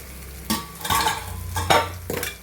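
Bitter gourd fries in a pan over a low flame, with a steady soft sizzle broken by several close scraping stirs of a spoon against the pan.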